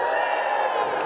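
A graduating class cheers as mortarboards are tossed at a December graduation ceremony, a dense sustained roar of voices and whoops filling the hall, loud and continuous throughout.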